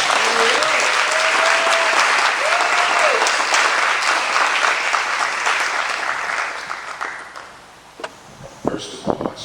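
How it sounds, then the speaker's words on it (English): Audience at a documentary film screening and Q&A applauds loudly and steadily, with a voice speaking over the clapping near the start, before the applause fades out and a few scattered claps remain. "Can we get another round of applause for this amazing film?"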